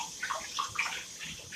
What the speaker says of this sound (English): Rinse out my utensils